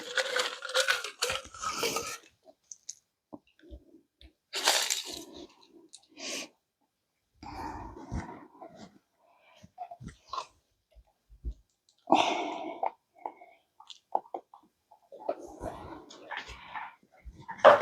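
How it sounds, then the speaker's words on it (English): Dogs, one named Lucy, crunch and chew on ice in irregular bursts of crisp cracking, separated by short pauses, with a faint voice now and then. "I have dogs eating all my ice"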